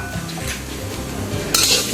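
Grated coconut is dry-roasted in a pan for rendang, stirred with a utensil that scrapes and clinks against the metal pan, with soft sizzling and a brighter scraping burst near the end.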